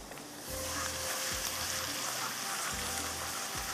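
Garlic and chopped ginger frying in hot oil, a steady loud sizzle with a few brief stirring scrapes, close and continuous, no talking.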